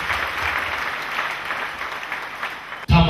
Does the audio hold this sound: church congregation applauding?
yes